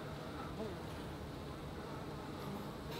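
Honeybees buzz steadily in an open hive, a dense continuous drone close by and fairly faint, with no clear talking.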